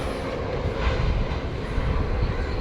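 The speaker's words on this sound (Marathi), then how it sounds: "तो बघा विमान आलाय किती मोठा विमान दिसतोय" A steady, broad roar of a large airplane passing overhead on its way in to land near Kurla, loud and continuous with no voices, rumbling low and washing through the whole clip.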